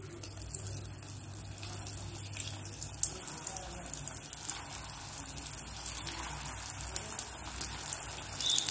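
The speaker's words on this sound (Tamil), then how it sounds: "எண்ணெய் நல்லா சூடானதும் இப்போ ஒவ்வொரு பால்ஸாக போட்டு ஃப்ரை பண்ணிக்கலாம்." Raw banana dough balls deep-fry in hot oil, giving a faint, continuous bubbling hiss with no distinct pops.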